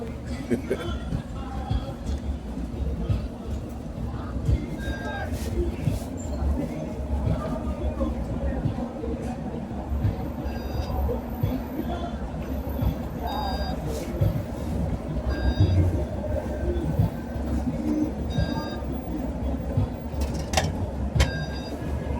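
Inside a moving, mostly empty bus: a continuous low rumble of engine and road noise with rattles and occasional beeps, and someone talking over it.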